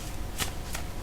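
A deck of playing cards being handled or shuffled gives one sharp riffling burst and then a softer second flick, close by over a hissy background with no talking.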